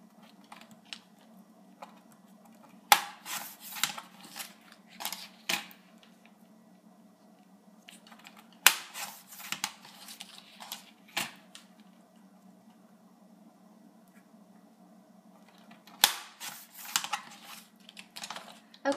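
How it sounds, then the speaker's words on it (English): Scissors cut through decorative planner paper in short bursts of crisp snips and crunches, close by, separated by quiet pauses over a faint background hum. "then we're going to cut this"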